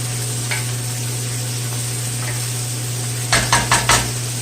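Garlic sizzles steadily in a pan with mustard greens under a constant hum, and near the end a few sharp scrapes and taps come from stirring.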